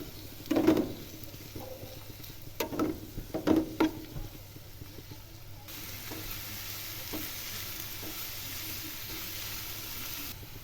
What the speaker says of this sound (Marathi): तो सुद्धा चांगला व्यवस्थित तेलामध्ये परतून घ्यायचा